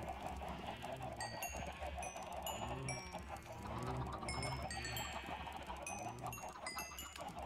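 A crowd of chickens in a Minecraft-style farm clucks continuously, many overlapping calls forming a busy, faint flock chatter with no voices.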